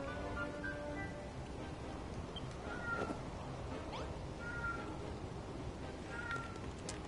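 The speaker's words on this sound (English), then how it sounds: "my cat is howling" A house cat howls with drawn-out, rising wails that cut through steady game music and noise, repeating several times at moderate loudness.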